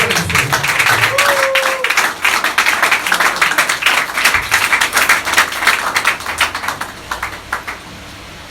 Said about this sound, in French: Acclamez pour le Seigneur, mes frères.